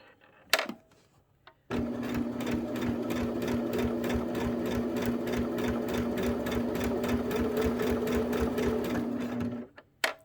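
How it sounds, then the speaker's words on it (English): A sewing machine stitches a mitered corner at a 45-degree angle, running in one steady, loud, continuous burst for about eight seconds after a brief clunk, with no talking over it. "I'm going to sew it"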